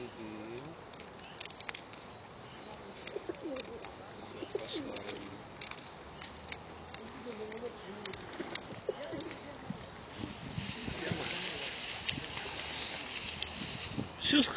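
Pigeons cooing and fluttering close by as people feed them outdoors, repeated soft warbling coos with pecking patter and wingbeats, heard under quiet talk.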